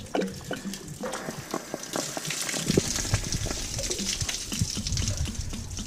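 Water trickles and splashes out of a drain on an Arctic Fox truck camper during winterizing. A steady, close gushing flow with scattered drips and spatters runs throughout, with no voices.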